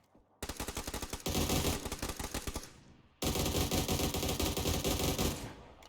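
Sustained automatic weapon fire in a competitive video game match, two long loud rattling bursts separated by a brief pause, close and dominant with no talk over them.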